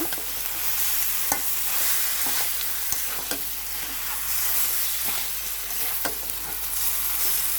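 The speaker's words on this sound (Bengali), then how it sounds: "এখন আবার একটু নাড়াচাড়া করে মিশিয়ে কষিয়ে নেব।" Desi chicken curry with water taro and turmeric being stirred and fried in a pan: a loud, constant oily sizzle with repeated spatula scrapes and clicks, close by and with no talking.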